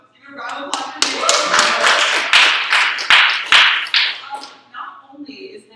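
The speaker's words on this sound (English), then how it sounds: "Give a round of applause for Nate." Audience giving a round of applause for a speaker being introduced at an evening talk, sharp close claps building into steady clapping, then fading out near the end.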